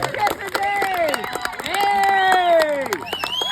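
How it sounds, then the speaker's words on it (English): Wedding guests clapping and cheering at a New Jersey ceremony, with sustained whoops and shouted voices over scattered applause, a lively crowd close by. "How about a big round of applause?"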